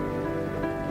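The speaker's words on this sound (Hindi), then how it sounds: "तभी बहुत तेज बारिश शुरू हो जाती है" Heavy rain starting in a Hindi cartoon scene: a dense, steady wash of rain noise, moderately loud and continuous for under a second, with no voices.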